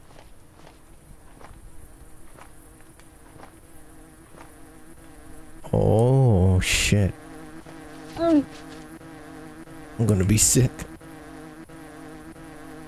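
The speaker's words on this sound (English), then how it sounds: "Why are there so many damn bees?" In a horror video game, a swarm of bees hums as a low, buzzing drone under footsteps, interrupted by louder harsh bursts, while a man mutters a few words nearby.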